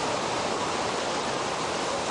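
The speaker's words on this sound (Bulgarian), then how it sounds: "преля река Арда" Rushing floodwater of the Arda river near Rudozem, a steady, dense broadband roar that stays loud and unbroken throughout.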